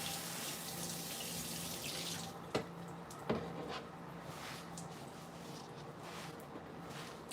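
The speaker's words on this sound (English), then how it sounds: "Let me rinse off this cutting board" Water runs steadily from a tap as a cutting board is rinsed under it, a close, continuous wash broken by a couple of soft knocks partway through.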